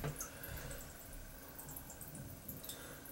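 Water running and dripping out of a cracked wall-hung oil burner boiler in a basement, a steady faint trickle with scattered drips and no talk.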